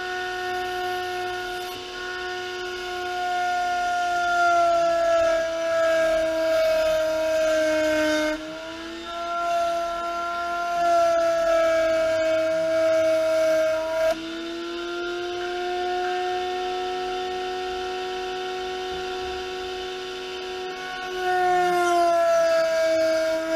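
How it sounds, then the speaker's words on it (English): A router with a trim bit cuts MDF to shape, its high steady whine running in long passes broken by brief pauses where the pitch dips and recovers. "right now I'm going to use the router trim bit to trim this all to shape"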